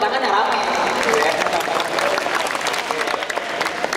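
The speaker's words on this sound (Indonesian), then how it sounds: "tepuk tangan yang rame." Loud applause from an audience at a national dialogue forum on regional innovation, a dense, sustained clatter of many hands filling the hall, with voices murmuring beneath it.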